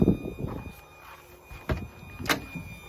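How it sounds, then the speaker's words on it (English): A few dull knocks and a firm thud as a door on a 2022 Cedar Creek 377BH fifth-wheel RV swings shut nearby, over a faint steady mechanical whine of the jacks moving. "So I'll just close that door for now."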